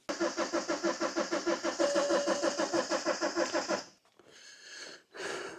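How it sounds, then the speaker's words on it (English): A BMW car engine cranking slowly, the starter labouring through a steady rhythmic chug for about four seconds without catching, followed by a quieter whine and a short final burst. "Well, that didn't crank very fast."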